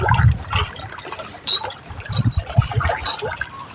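Sea water splashes and trickles close by while someone swims in the ocean, with irregular sloshing bursts and gurgles in the foreground.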